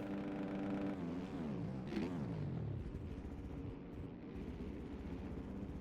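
A Yamaha motocross bike at a WCP race races through sand whoops in an amateur 450 class event, its engine loudly revving and bogging in rapid rises and falls, steady and close with other machines droning behind.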